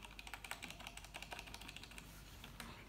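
Keys clack on an Ajazz 75% mechanical keyboard fitted with Cherry Black switches, a fast irregular run of crisp, close typing strokes, fairly quiet and heard alone.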